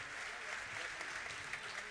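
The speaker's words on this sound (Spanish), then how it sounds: "Un aplauso para Flopa Zugdorf," Steady audience applause at a live jazz festival, a dense wash of clapping that holds constant from start to finish.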